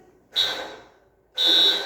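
Two loud, sustained blasts from an electronic whistle of the kind used by referees, each a steady shrill tone lasting about half a second to a second, separated by a short silence.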